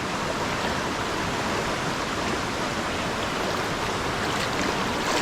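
Sawat Kada waterfall near Shighre, Murud, roars as a dense, steady wash of falling water, loud and continuous with no pauses and no voices.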